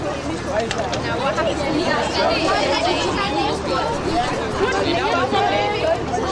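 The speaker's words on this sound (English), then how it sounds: "we're surrounded by loads of school kids who we're not able to do the job adequately with the noise that's going on and people gathering around" A crowd of school kids and other people gathered in a street make a dense, continuous babble of overlapping chatter and shouts, close and fairly loud throughout.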